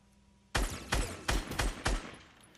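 Gunfire in Fortnite: five sharp, punchy shots spaced roughly a third of a second apart, close and loud against quiet background, with no voices.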